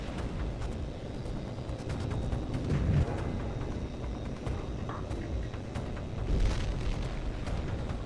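Explosions of destroyed ground vehicle targets in H.A.W.X. 2, with deep rumbling booms over continuous roaring noise and a couple of sharper bursts standing out.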